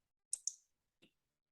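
Computer mouse clicks at a desk: a quick double click followed by a single softer click, crisp and quiet against silence.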